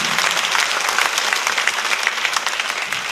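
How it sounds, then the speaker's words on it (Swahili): A church congregation applauds during a Sunday service, clapping loudly and continuously throughout, with a dense spread of hand claps and no break. "Si tumpigie tena makofi mazuri, we appreciate him"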